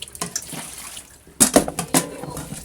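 Running tap water splashes over raw chicken feet being washed in a kitchen sink, with uneven bursts of splashing as the feet are handled under the stream, close and fairly loud.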